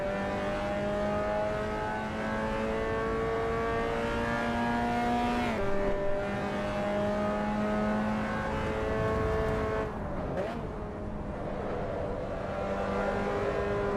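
Race car engine in Assetto Corsa EVO, a steady droning engine note with clear gear shifts where the pitch steps down, then a brief roughness and renewed revving.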